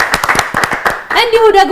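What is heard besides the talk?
audience clapping for a child prize winner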